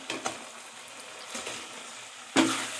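Paneer, onion and capsicum fry lightly in a pan, a quiet hiss broken by a few brief stirring scrapes and a louder clatter at the end, with nobody speaking.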